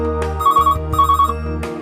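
A telephone rings for an incoming call on a live call-in broadcast: a loud, steady electronic ringtone with a repeating warbling pattern, heard alone and up close.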